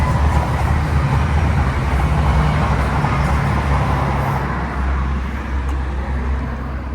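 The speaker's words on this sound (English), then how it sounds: "Oh, that's a train." A steady rumbling roar of a passing train in Northern Ireland, broad and continuous, fading slightly toward the end with no voices.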